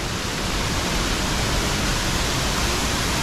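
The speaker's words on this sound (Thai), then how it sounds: "ว้าวน้ำตกไปดูน้ำตกครับไปดูข้างนู้น" A large waterfall in a tropical rainforest section of a botanical garden, roaring as a dense, continuous rush of water, close and loud with no other sounds.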